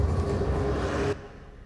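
A truck rumbles in a video game, a low engine drone with a steady hum that runs for about a second before cutting off abruptly to near silence.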